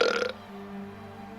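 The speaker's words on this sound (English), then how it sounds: "why are you burping?" A single close burp right at the start, loud and brief, then fading into quiet room background.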